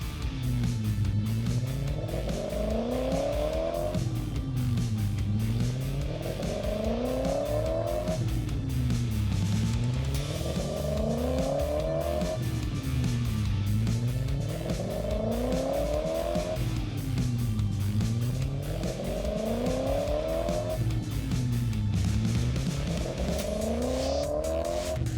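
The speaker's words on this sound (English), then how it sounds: "A pickup truck glides over grass with such grace." A diesel pickup truck nicknamed Chain Smoker drives over grass, its engine revving up and falling back in a steady repeating cycle every few seconds, with no talking.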